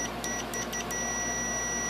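A multimeter set to continuity gives a few short, high electronic beeps as its probes touch, then a steady tone, clear over a faint background hum.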